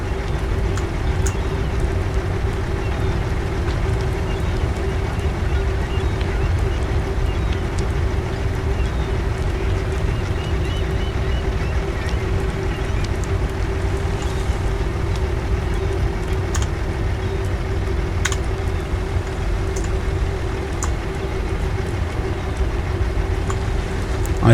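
Ship engines idling at a steady drone with a constant low hum and faint water wash while a large vessel docks in the game Ships at Sea, unchanging and continuous throughout.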